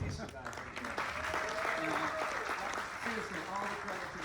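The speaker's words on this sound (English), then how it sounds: "let's get a round of applause for Keith." Applause from guests at an art exhibition opening reception at the Maitland Art Center, a moderate, fairly distant patter of clapping that carries on throughout, with faint voices mixed in.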